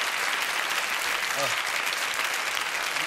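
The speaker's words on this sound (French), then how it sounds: "Ça mérite quelques applaudissements même, messieurs" Studio audience applause on a French TV variety show, a steady, dense clapping wash throughout, with a brief voice rising in the middle.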